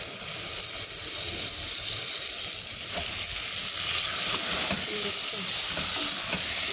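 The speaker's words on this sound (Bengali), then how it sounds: "দেখো গাইস এখানে পেঁয়াজ রসুন ভাজা হয়ে গেছে।" Onion and garlic frying in a pan, giving a steady loud sizzle throughout, with occasional scraping stirs and small taps, close up and without talk.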